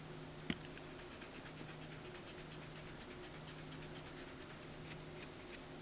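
Pencil scratches faintly and rhythmically across paper in soft repeated strokes, with a few brisker rubs near the end like erasing, all quiet and close with a low steady hum beneath.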